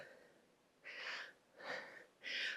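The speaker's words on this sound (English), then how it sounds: "You can probably hear my breathing." Heavy breathing during a full-body workout: three close, breathy exhales with quieter pauses between them, faint and rhythmic.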